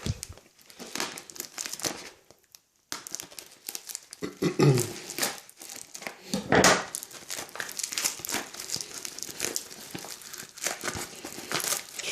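Plastic packaging from a parcel shipped from China crinkles and rustles continuously as it is unwrapped up close, with a brief pause partway through and occasional sharper tearing crackles.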